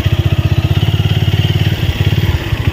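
A motorcycle engine runs close by with a steady, rapid pulsing throb, loud and continuous throughout with no talk over it.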